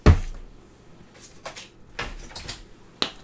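Paper being cut down to size for a large black and white Christmas album, with a few separate snips and crisp cuts spaced irregularly over a few seconds, close and fairly loud with no talking.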